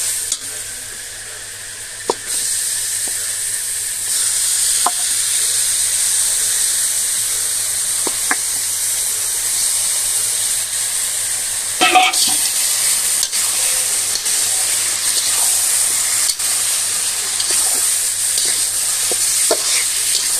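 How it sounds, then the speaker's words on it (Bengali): Chicken meat frying with turmeric, salt and spices in a pan, a loud steady sizzle with occasional stirring scrapes and clatters, no speech. "এবার দিয়ে দেবো সেই মুরগির মাংস।"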